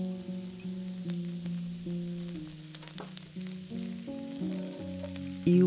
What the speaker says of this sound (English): Push the mushrooms to the side to continue cooking, and then add a touch more oil and your aromatics.